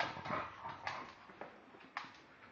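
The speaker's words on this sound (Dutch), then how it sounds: "Ik heb die hond nog nooit zo actief gezien trouwens" Dog whimpering beside an outdoor water tap, soft high whines and a few short yips, faint and close, with no talking.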